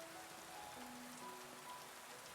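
Steady rain falls continuously on surfaces, a soft even hiss with faint drop patter throughout, quiet and close, with no voices.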